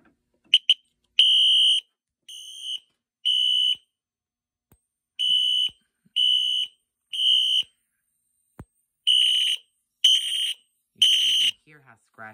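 A homemade alarm system under test sounds a series of short, loud electronic alarm blasts in irregular bursts, separated by silent gaps, with a few clicks and handling noises between them.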